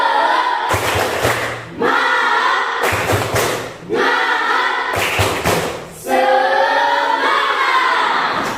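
A school class claps a 'tepuk semangat' spirit routine together in an Indonesian classroom, producing loud, rhythmic bursts of clapping separated by brief pauses, with group voices mixed in.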